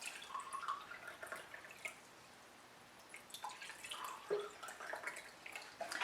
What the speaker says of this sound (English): I then fill up each one with water.